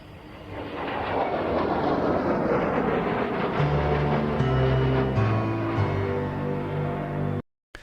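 A Eurofighter Typhoon jet makes a flypast at an airshow in Scotland, a loud continuous roar that builds and holds with shifting engine tones before abruptly cutting off near the end.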